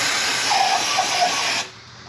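Brake cleaner sprayed onto a Harley M8 engine during an oil change, a loud steady aerosol hiss close by that cuts off abruptly, leaving a quiet background.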